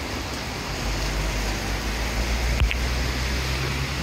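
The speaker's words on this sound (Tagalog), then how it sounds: "Ulan oh. In fact, ulan pa more." Heavy rain outdoors makes a steady, broad hiss under a low traffic-like rumble, continuous and fairly loud throughout, with one brief sharper knock partway through.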